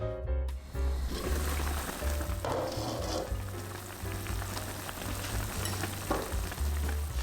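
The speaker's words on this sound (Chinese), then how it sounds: "加入少许的清水，刚好没过猪肉，然后开中火把肉炖30分钟左右" Pork leg meat simmering in seasoned water in a pot over medium heat on a home stove, with a steady close bubbling sizzle and a few clinks throughout, and no one speaking.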